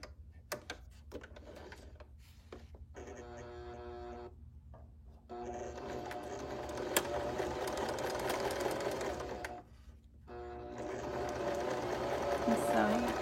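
A sewing machine runs a quarter-inch seam along bias tape, its needle whirring in steady bursts that stop and restart several times, close and fairly loud with a low background hum.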